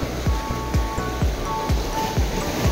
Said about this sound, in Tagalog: Makikita nyo talaga yung alon, ang lakas oh.